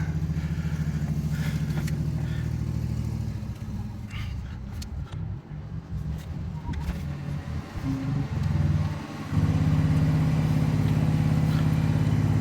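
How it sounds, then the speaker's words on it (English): A 1991 Mazda Miata with no power steering is moved into a shop, its engine running steadily at close range, with a brief dip in the engine sound near the end. "Alright, we're moving the Miata."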